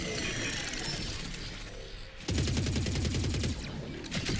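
Rapid gunfire from a split weapon in the Warframe video game, a fast dense fusillade of shots that turns louder and quicker partway through, with mechanical clatter mixed in and no talk.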